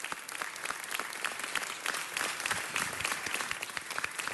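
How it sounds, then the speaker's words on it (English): Sustained applause fills a city council meeting chamber as the speaker's family stands, dense steady clapping from the audience with no talk over it. "Let's give them a round of applause"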